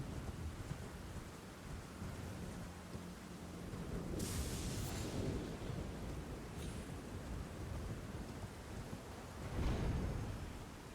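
Thunder rumbles through a stormy Elden Ring scene, with steady rain-like noise throughout, a sharp crackling strike near the middle and a louder low boom toward the end.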